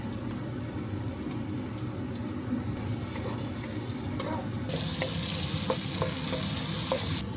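Garlic sautéing in a pan, a steady close sizzle with scraping stirring strokes, growing brighter and louder in the second half.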